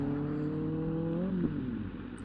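Motorcycle engine held at steady revs with smooth harmonic drone, pitch rising slightly then easing back, close and continuous with no talking.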